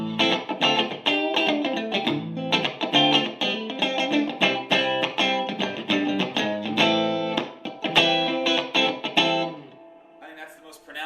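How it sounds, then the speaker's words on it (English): Fender '69 Mustang reissue electric guitar with the bridge pickup out of phase and the neck pickup in phase, strummed chords and riffs with a hollow, effected tone, loud and busy for about nine seconds before thinning to a few quiet notes. "When you bring the bridge pickup out of phase, neck pickup in phase, it sounds something like this."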